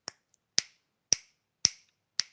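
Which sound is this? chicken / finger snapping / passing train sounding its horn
finger snapping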